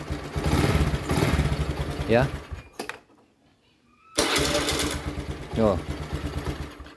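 A carbureted Honda Beat scooter engine starts and runs with a buzzy idle, cuts out briefly, then fires up again and keeps running, with someone talking over it.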